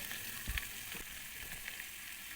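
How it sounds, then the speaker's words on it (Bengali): Steady, quiet sizzling of bitter gourd and potatoes frying in hot oil with chilli, a continuous hiss with an occasional soft stir or clink. "কড়াইয়ের মধ্যে তেল দিয়ে তার মধ্যে একটু লঙ্কা দিয়ে উচ্ছে আলুগুলোও একইভাবে ভেজে নেব"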